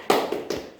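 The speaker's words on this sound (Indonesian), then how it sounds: "Gini, tepuk semangat." Two quick claps from schoolchildren doing a classroom spirit-clapping routine, sharp and close, about a half second apart with a faint tap between them.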